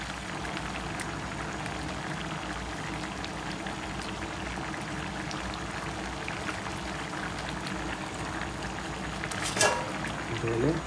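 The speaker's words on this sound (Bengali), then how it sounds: "এখানে আমি যে মাছগুলো ফ্রাই করে রেখেছি মাছগুলো দিয়ে দেবো।" A pan of cucumber and soybean with fried fish added hisses and bubbles in a steady low simmer, with a brief clatter near the end.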